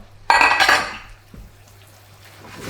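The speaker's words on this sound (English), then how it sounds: "Just fold that through gently, and the heat from the prawns and the pumpkin and the couscous will break down the spinach" Spinach folded gently through hot prawn, pumpkin and couscous in a pan gives one close burst of scraping and soft clattering that fades quickly into a quiet sizzle, with no talking.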